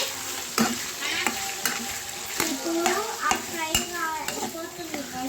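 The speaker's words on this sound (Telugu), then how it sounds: "ఇప్పుడు మనం గెంటితో మిక్స్ చేసుకోవాలి. మళ్ళీ ఇప్పుడు ఆ ఫ్రై అయిపోతుంది." Spiced food with turmeric fries in a pan while a spatula scrapes and stirs through it, giving repeated clinking scrapes over a constant sizzle, close and fairly loud.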